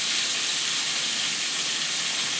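Dal frying in hot oil in a pan for a fish-head moong dal, a steady broadband sizzle and hiss that holds evenly throughout without pause.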